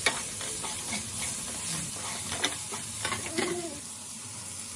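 Spices and tomatoes for dal fry are stirred in a frying pan: a steady sizzle runs under repeated scraping and rustling strokes of the spoon, close and moderately loud, with no talking.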